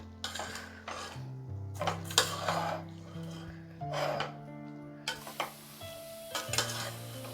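Vegetables sautéed and stirred in a pan for a millet biryani, with repeated scraping stirs and a light sizzle over several seconds under steady background music.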